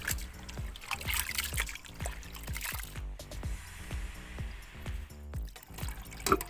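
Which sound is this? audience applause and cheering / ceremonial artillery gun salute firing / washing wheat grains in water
washing wheat grains in water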